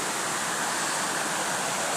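The Spread Eagle waterfall in Shillong pours in a loud, constant roar of rushing water, close and unbroken throughout.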